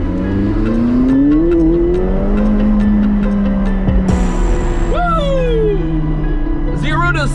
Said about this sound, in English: those turbos kick in and then it's off to the races